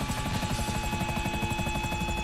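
A helicopter in a GTA 5 Online helicopter race makes a loud, continuous rotor chop with a fast regular thump and steady engine whine, close and unbroken throughout.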